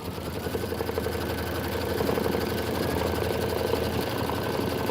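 An embroidery machine sewing decorative stitching, a steady, fast mechanical whir and rapid needle rattle running continuously at close range.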